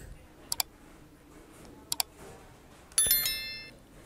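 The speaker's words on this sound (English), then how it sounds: "So I'm clicking on Manage. And now click on Edit Website." A computer mouse clicks through a website builder in two quick double clicks a second or so apart, followed by a brighter click with a short ringing chime, in a quiet room.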